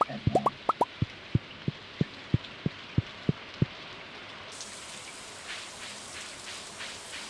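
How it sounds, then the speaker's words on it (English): Steady rain falling in the farming video game Stardew Valley, a soft continuous patter that brightens after midway, preceded by a quick run of sharp plopping clicks. "it's raining"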